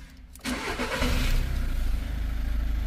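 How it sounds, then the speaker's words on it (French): A Volkswagen Golf 6 TDI diesel engine cranks briefly, catches with a surge, then settles into a loud, steady rumbling idle close by. "On va démarrer le véhicule."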